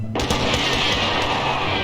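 Dense, continuous gunfire in the physics battle game TABS, a unit firing a gun into the sky, with rapid overlapping shots forming a loud, sustained rattle that barely lets up.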